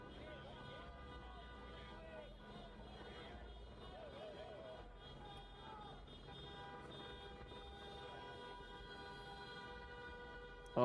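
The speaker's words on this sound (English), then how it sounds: "Oh my God, stop honking." Car horns honk in a city street during protests, sustained tonal toots layered over a busy, distant street murmur, steady and moderate in level.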